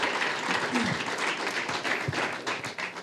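Audience applause at a festive Easter holiday gathering, a dense crackle of many hands clapping steadily for about three seconds and fading slightly at the end.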